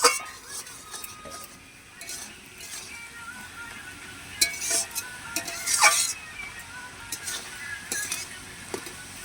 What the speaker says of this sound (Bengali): নেড়ে নিলাম একটু